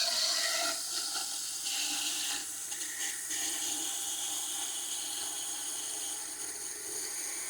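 A Halo Hybrid all-in-one water filtration system slowly filling as water is turned on, giving a steady, continuous rushing hiss of flowing water throughout, moderately loud with no talking.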